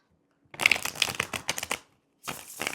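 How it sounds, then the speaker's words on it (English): Tarot cards are shuffled by hand close up, in two quick papery bursts of riffling with a short pause between them. "Shuffling for Taurus."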